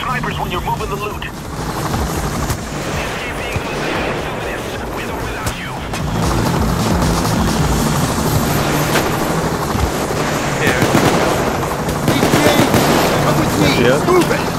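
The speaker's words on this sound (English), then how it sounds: "The chopper's here." A helicopter's rotor thumps steadily under gunfire and effects in the video game Payday 2, growing louder midway, with voices talking over it.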